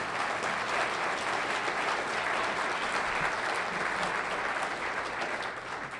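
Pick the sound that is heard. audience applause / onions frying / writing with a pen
audience applause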